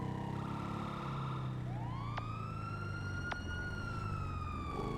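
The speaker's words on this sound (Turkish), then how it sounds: "Vay sirenler açık." A police car siren in GTA V wails and rises in long sweeping tones over a steady engine rumble, loud and close.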